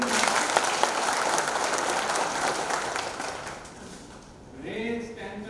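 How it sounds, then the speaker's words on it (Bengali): Applause from a seated audience at a company picnic event, a dense, loud wash of clapping that fades out near the end as a voice starts. "একটা বড় হাততালি সবাই।"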